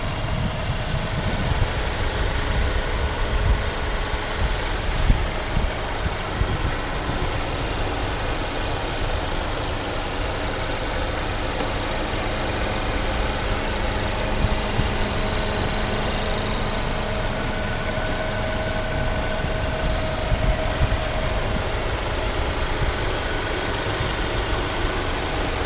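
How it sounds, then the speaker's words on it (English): A 2017 Mazda CX-9 AWD Signature with its gasoline engine idling, a steady, quiet low hum and faint whir that holds even and continuous throughout with no talking. "Let's see how loud this engine is."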